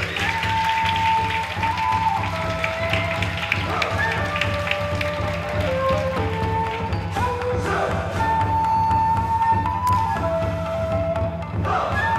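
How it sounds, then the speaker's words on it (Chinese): An audience applauds to welcome performers onto a stage at a magic show. Sustained clapping runs under bright music with tonal notes, and the whole scene stays loud and busy throughout. "各位观众，让我们最热烈的掌声欢迎他们出场。"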